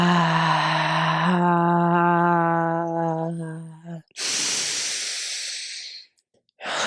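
A woman demonstrates a labor breathing pattern: a roughly four-second voiced inhale, then a long, low, toned exhale lasting about eight seconds. A brief breathy rush follows, close to the mic, with no speech.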